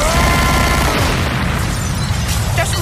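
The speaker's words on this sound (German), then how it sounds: "Das Mischpult ist explodiert." A mixing desk explodes as a radio-play sound effect: a loud, close boom bursts out with rough crackling and popping, then rumbles and fades over about three seconds.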